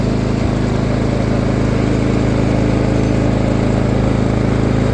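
A John Deere GX95 riding mower drives along in fifth gear, its engine giving a steady, close, continuous drone with no change in pace and no talk.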